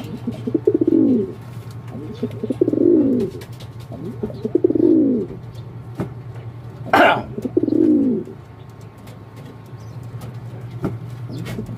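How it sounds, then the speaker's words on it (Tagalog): Racing pigeons give four slow, throaty coos in a steady rhythm, close and clear, with a brief sharp rustle between the last two calls. "Ito mga kalapatids,"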